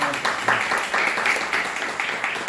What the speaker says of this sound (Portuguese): Aplaudir o doutor João.